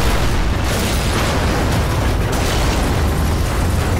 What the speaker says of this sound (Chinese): 随着一声爆炸，消防员长舒一口气